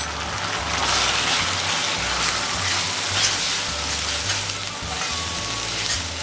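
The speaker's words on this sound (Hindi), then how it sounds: "ड्राई मसाला के साथ ginger garlic paste raw test जाने तक अच्छी तरह से फ्राई कर लेती हूँ" Dry masala spices with ginger garlic paste frying in a pan for hare matar dal, a steady dense sizzle that stays loud and even throughout with no voices.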